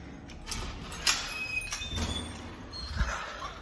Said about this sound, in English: trying to get through the door without spilling your coffee